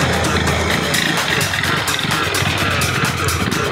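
A KTM motorcycle engine roars loud and close during off-road riding, holding a steady, gritty drone throughout.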